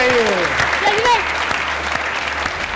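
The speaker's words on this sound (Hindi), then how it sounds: "रजा भाई के लिए तालियां होनी चाहिए।" A studio audience on a Pakistani TV game show breaks into loud, steady applause, close and full. A voice speaks over the start.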